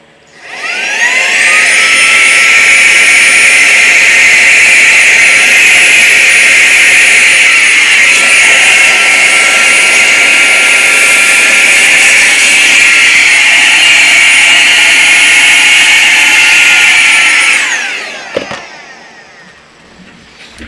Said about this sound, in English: because it's got powerful directed sucking power, I'm going to use it to suck through or try to remove lint from my thread paths here.